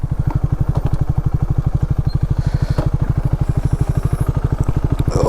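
A KTM Duke 250 fitted with an RC390 underbelly exhaust idles steadily, a loud, close, even thumping pulse that stays uniform throughout with no voices.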